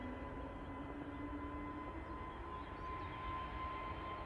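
An EasyJet Airbus A320neo at Manchester Airport, a steady distant jet engine whine and rumble with a sustained tonal hum, no voices.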